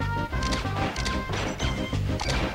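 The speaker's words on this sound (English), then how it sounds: "the most monstrous of F smashes" Forward smash connecting in a Super Smash Bros. Melee tournament match between two Falco players, a loud crashing hit set amid busy game music and effects, with several sharp impacts across the stretch.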